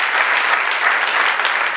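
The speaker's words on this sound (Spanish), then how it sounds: "Denle otro aplauso," A church congregation claps in warm, dense applause, a brief burst of many hands filling the room evenly with no voices on top.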